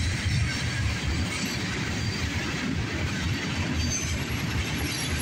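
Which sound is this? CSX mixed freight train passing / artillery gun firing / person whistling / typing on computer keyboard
CSX mixed freight train passing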